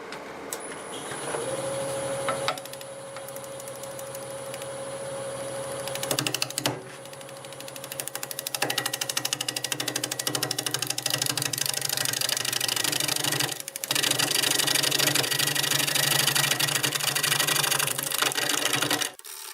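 A hollowing tool cuts into a cherry crotch workpiece spinning on a wood lathe, giving a steady mechanical hum with rough scraping and intermittent chatter throughout.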